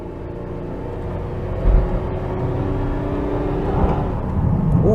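A 1992 Pontiac Trans Sport GT picks up speed, its engine note a steady rising hum with low rumble and a brief thump, heard from inside the cabin with no talking.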